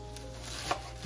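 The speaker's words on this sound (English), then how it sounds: "I'm just chopping up some kale" Kale being chopped with a knife for turkey neck soup, a single soft cut standing out faintly above a steady low kitchen hum.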